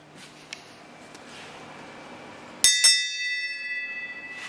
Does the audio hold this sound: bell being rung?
yes